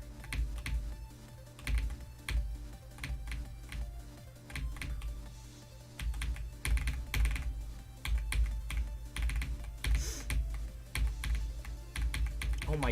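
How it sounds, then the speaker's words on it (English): Rapid, steady keystrokes on a computer keyboard while playing a game, clattering in dense bursts with brief pauses, close and fairly loud throughout. "I decided I'm beating this level with the keyboard now."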